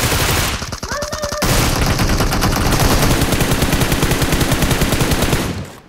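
Rapid automatic gunfire in the PUBG Mobile shooter, dense bursts of close, loud shots almost without pause, with a brief chime partway through and no talk.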